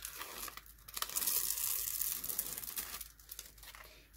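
Adhesive protective film is peeled off a diamond painting canvas, a close, drawn-out tearing rip rising and fading with crinkly plastic rustle, quiet and without speech.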